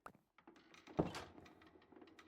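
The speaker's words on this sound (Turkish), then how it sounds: "Görünmez birisi kapı açıyor sadece." A door opens in the Minecraft horror mod Wonderland.jar with a soft thunk followed by a brief creaking rustle, quiet and close, set against faint background noise.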